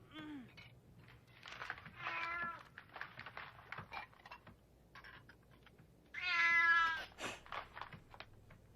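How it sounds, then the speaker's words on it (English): A cat meows repeatedly in an animated film scene: several distinct calls of varying length, one long loud meow near the end, over a quiet room background. "What? A cat?"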